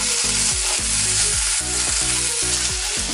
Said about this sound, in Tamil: இந்த பச்சை வாசனை போகிற வரையும் இதை நல்லா வதக்கிக்கோங்க.